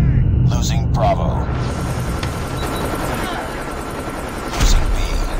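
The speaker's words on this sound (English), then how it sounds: "Hostile stealth chopper inbound." A hostile stealth chopper in the game Call of Duty Mobile makes a steady, dense rotor roar that fills the clip. Gunfire bursts and an announcer's voice sound over it.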